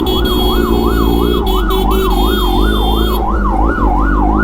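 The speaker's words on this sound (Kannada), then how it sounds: "ಫೈರ್ ಇಂಜಿನ್ ಬರ್ತಾ ಇದೆ" A fire engine siren wails through Bengaluru traffic in fast, even up-and-down cycles, loud and close over a constant engine and road rumble.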